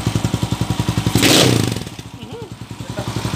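A Kawasaki TMX155 motorcycle upgraded to 200cc idling close by with a rapid, even thumping exhaust beat, briefly masked by a loud rushing burst, with a voice speaking over it.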